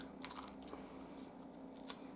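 Close, quiet crunching bites into a homemade sourdough loaf, a few crisp crackling chews spread over two seconds with soft moist squish between them.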